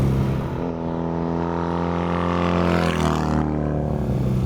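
A vintage BMW R90 Airhead motorcycle engine runs steadily up close, a loud low drone that rises briefly in pitch as it revs, with no talking.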